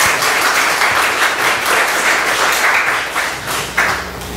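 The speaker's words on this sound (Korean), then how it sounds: "박수로 환영하겠습니다." A church congregation applauds visiting guests, sustained dense clapping from many people in a hall, loud and continuous for several seconds with no talking.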